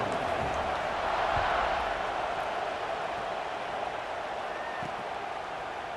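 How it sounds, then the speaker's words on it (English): Constant roar of a stadium crowd at a night game in EA College Football 26, a dense, steady wash of cheering noise filling the whole stretch with a faint swell early on. "Night games are always so loud, so obnoxious, and these fans, they get something to cheer about with that first offensive possession."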